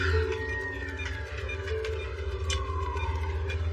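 A siren wails in the distance, its pitch sliding up and down over a low engine rumble, faint and continuous.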